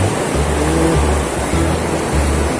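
Ocean surf at a fishing spot makes a loud, continuous rushing wash, with a faint low hum underneath.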